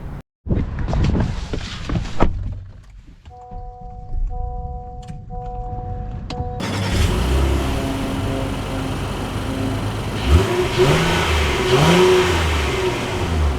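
A 2025 Honda Ridgeline pickup truck pulls away, its engine rising steadily in pitch as it accelerates from inside the cabin, with tire and road noise building underneath.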